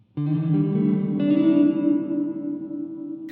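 A sustained guitar chord rings out through a Donner Verb Square reverb pedal on a cavern-style setting, blooming with distant, spacious echo and slowly decaying tail.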